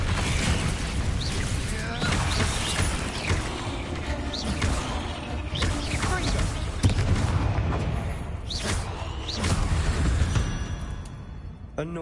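Bombarda explosion spell cast in the Hogwarts Legacy video game, part of a loud, continuous combat mix of booming blasts, crashes and impacts, with spoken voices under the din.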